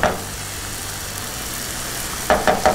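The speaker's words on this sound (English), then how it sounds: "We're gonna add a touch of chopped garlic." Chopped garlic sizzles in a hot pan alongside pasta ingredients, a loud, steady frying hiss close by, followed near the end by three quick scraping stirs.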